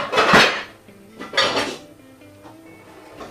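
Two clanks of a glass lid set onto a metal saucepan, the second softer, followed by faint rattling in a quiet room.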